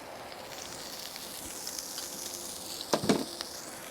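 A burger fries in a cheap pan on an old electric grill run from a Jackery Explorer 1000 solar power station, giving a steady soft sizzle with a louder burst of spitting and crackling near the end.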